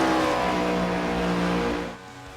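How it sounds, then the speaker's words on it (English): Race cars in a stock-car racing video game roar around the Chicagoland oval, with a Ford Mustang among them. A loud, steady engine drone holds throughout and eases off slightly near the end. "turn down the music a little bit so you can hear a little bit more of the cars"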